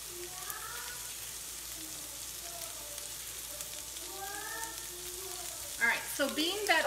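Cooked ground meat is drained from a pan, giving a steady soft sizzling hiss with faint scraping, then louder clatter and pouring sounds near the end.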